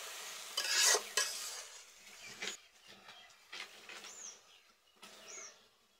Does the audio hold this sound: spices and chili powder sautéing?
yes